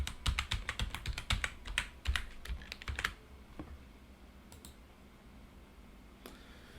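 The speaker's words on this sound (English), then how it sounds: "let me type that in again" Fast bursts of keyboard typing entering a password on a computer keyboard, crisp clicks close by for about three seconds, then a quieter stretch with a few scattered key presses.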